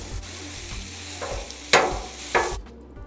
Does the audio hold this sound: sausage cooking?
yes